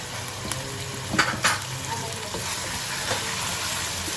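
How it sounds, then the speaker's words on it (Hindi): Chicken and onions sizzle in a pan with a constant crackling hiss, broken by a couple of brief stirring scrapes near the start. "ये जो आवाज़ आ रही है ना आपको, छू छू की, छुन छुन की, पकने की आवाज़ आ रही है ना"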